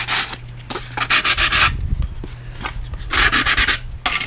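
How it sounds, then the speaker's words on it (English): A sanding block rubs back and forth across a plastic model kit lid in close, loud scraping strokes, grouped into quick bursts with brief pauses between them. "So take yourself a sand block, get the nubbies off."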